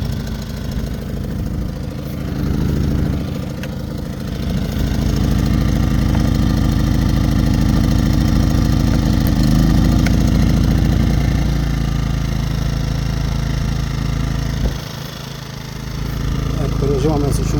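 A CFMoto 3 kW portable generator engine runs steadily at a constant, moderately loud hum close by, with a brief dip in level near the end before it settles back.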